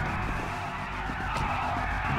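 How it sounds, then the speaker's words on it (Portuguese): A car in the video game GTA V skids to a stop, with loud, continuous tire screech and road noise running steadily throughout. "para o carro aqui, Felipe."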